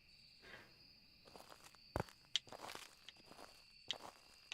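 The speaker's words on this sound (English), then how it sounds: "You can hear the crunching leaves and everything." Footsteps crunch through dry leaves in the Phasmophobia ghost-hunting game, a few soft irregular steps with sharper crackles, heard close over a steady high insect and cricket drone.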